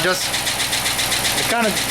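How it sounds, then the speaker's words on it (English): A Chrysler 300 engine idling with a steady mechanical rumble and a light, rhythmic knock from bank one, while a voice talks over it and fades in and out. "can hear a little bit knocking coming from the bank one"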